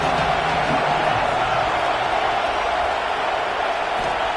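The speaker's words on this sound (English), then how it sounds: "This crowd rising up, sensing that its defense needs some help." A stadium crowd at a football game roars in a steady, dense wash of cheering noise that holds throughout, loud and distant-sounding, with no clear talk over it.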